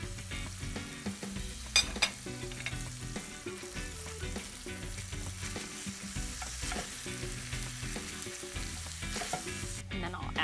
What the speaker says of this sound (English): chorizo is cooking